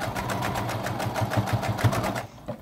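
A sewing machine runs steadily, stitching a fabric face mask with a fast, even mechanical whir and rapid needle chatter that slows and stops near the end; close and alone without talk.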